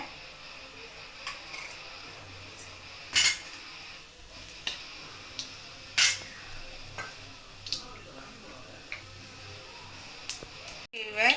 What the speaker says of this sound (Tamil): நல்லா கடுகு எல்லாம் வெடிக்குது